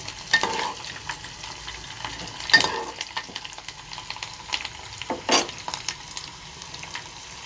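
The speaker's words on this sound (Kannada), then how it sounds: "ಈಗ ನಾನು ಕರ್ಬೇವಿನ ಸೊಪ್ಪು ಮತ್ತು ಬೆಳ್ಳುಳ್ಳಿನ ಜಜ್ಜಿಟ್ಕೊಂಡಿದ್ನಲ್ಲ ಇದನ್ನ ಹಾಕ್ಕೊಳ್ತೀನಿ" Curry leaves and crushed garlic hit hot oil in a pan, giving a bright sizzle with sharp crackling bursts and scattered stirring clinks, close and fairly loud with no talking.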